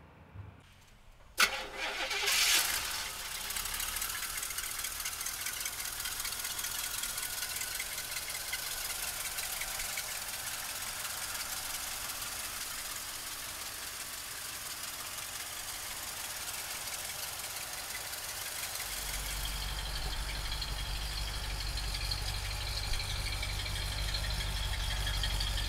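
A 1973 Cadillac Eldorado engine cranks and catches with a sharp burst, then settles into a steady even idle, the low rumble deepening and growing louder near the end as the idle shifts.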